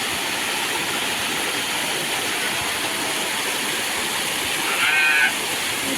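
A waterfall on a trek in the Mutha river valley near Pune roars as a continuous, dense hiss of falling water, steady and loud throughout, with a short high warble briefly rising above it near the end.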